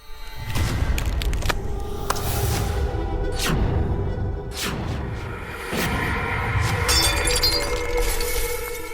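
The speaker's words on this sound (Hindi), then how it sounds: "ये कांच टूटने की आवाज कहाँ से आई?" Breaking glass in a Hindi TV serial scene: a series of loud shattering crashes with bright clinks and falling fragments, repeating over several seconds without any speech.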